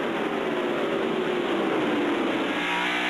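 The No. 7 NASCAR stock car of Michael Waltrip roars past during practice, a loud, sustained engine rush that holds close and steady with no talk over it.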